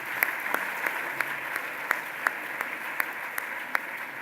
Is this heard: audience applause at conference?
yes